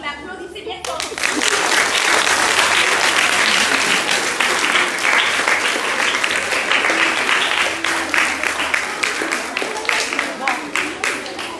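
Students at a school event give loud, sustained applause that swells quickly and holds for about ten seconds before thinning into scattered individual claps near the end.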